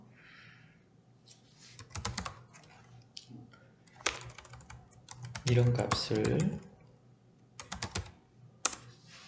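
Rapid clicking of keys on a computer keyboard in uneven bursts while typing a value into an Excel sheet, heard close up while a person speaks briefly over it.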